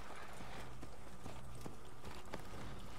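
Horse hooves clip-clopping in Assassin's Creed, a steady rhythmic trotting beat with a faint ambient game background.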